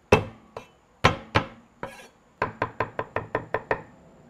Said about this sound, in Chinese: 再剁点蒜泥，